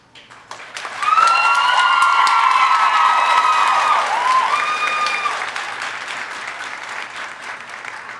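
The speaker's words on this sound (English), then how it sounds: "The graduates that just clapped must be the nurses." Graduates at a graduation ceremony break into applause that swells suddenly into a dense, steady wash of many hands with cheering voices over it, then slowly fades toward a thinner patter.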